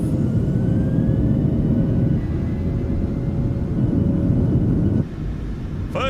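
A GOL Boeing 737 NG in a flight simulator spooling up to takeoff thrust, a loud continuous jet roar and rumble that eases slightly near the end, with a brief high whine at the close.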